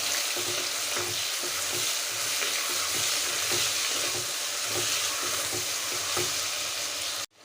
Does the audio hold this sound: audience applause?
no